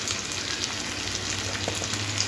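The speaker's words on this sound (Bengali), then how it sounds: "আদা রসুন বাটাটাও পেঁয়াজের সাথে ভালো করে একটু কষে নিতে হবে" Ginger-garlic paste sautéing with onions in a pan for a spicy Bengali prawn and potato curry, a steady close sizzle with light stirring scrapes throughout, no voices.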